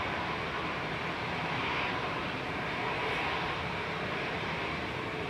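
TUI Boeing 787-9 Dreamliner on a positioning flight at Manchester Airport, heard as a steady, broad jet engine roar that holds evenly throughout, loud and continuous with no voices.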